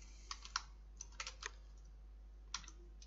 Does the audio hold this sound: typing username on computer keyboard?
yes